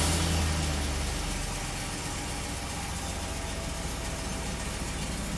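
A Chevrolet Express van's engine idles steadily, a constant low rumble with a faint whine above it, close by and unbroken, while its charging system is checked for a battery that dies overnight.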